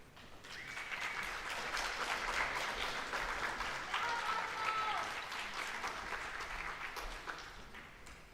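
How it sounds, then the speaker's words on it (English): School presentation ceremony audience applauding a junior all-rounder medal winner, a sustained, fairly distant round of clapping that swells slightly and holds steady throughout. "Can we please have another round of applause for our deserving winner"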